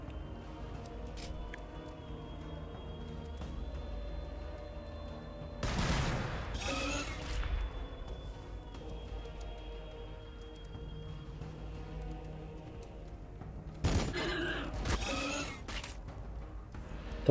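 Gunfire in the Warhammer 40k Battlesector strategy game: two loud clusters of rapid shots, one around the middle and another near the end, over a steady low in-game background rumble.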